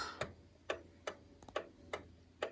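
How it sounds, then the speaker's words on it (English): An antique Welch wind-up alarm clock ticking up close, six crisp evenly spaced ticks about half a second apart against a quiet room. "The clock is running."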